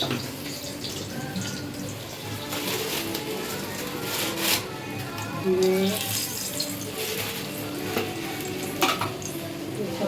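Slit green chillies are added to dal cooked with a fish head in a wok, giving a steady wet bubbling and sizzling with stirring scrapes that run throughout at close range.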